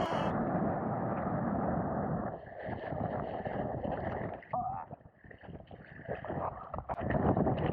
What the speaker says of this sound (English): It is so windy out right now, it's ridiculous.